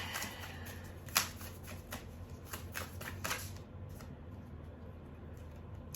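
Tarot cards being shuffled, a run of soft riffling flicks and crisp snaps spaced across a few seconds, fairly quiet with a light background hum, no talking.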